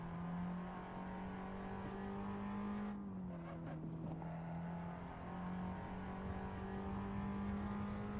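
Toyota Yaris GR driven in the Assetto Corsa racing game, a steady engine drone with a drop and recovery in pitch as the car brakes and skids, a brief tire squeal midway, no talking.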